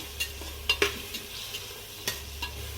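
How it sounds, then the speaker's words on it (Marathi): Soybeans stirred and frying in oil in a pan, a steady low sizzle with a few sharp spoon scrapes and clinks against the pan, close and alone. "असं सोयाबीन छान असं तेलामध्ये परतून घ्यायचं"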